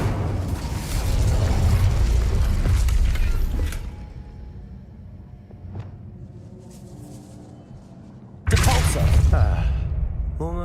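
An Incendio fire spell is cast in Hogwarts Legacy, a loud whooshing burst of fire and crackling mechanisms that rises, fades into a quieter stretch, then erupts sharply again, with a voice speaking in between.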